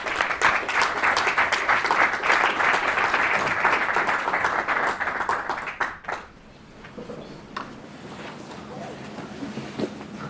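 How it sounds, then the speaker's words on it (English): An audience at an evening talk on archiving video game sound gives a big welcoming round of applause, dense steady clapping that lasts about six seconds before fading into room noise and a few scattered claps. "big hand of applause to welcome them"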